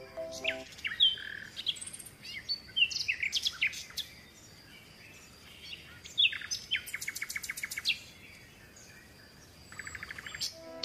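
Small birds chirp and tweet in short bursts of quick, high notes, faint and outdoors, separated by brief pauses with a soft background hiss and no talking.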